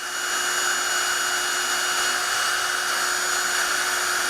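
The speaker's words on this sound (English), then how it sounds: "I'm match drilling the 4 holes into the spar doubler" A steady, high-pitched power drill whine match drilling four holes into an aircraft horizontal stabilizer spar doubler runs continuously at close range, loud and unbroken, with no voices.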